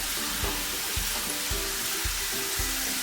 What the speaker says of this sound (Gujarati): આપણે આ ક્રિસ્પી થાય ત્યાં સુધી આપણે તેને તળી લઈશું